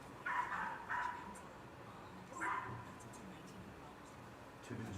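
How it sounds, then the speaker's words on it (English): A dog barks a few times at a distance, short bursts spaced apart against steady outdoor background noise. "Oh, I hear a dog barking."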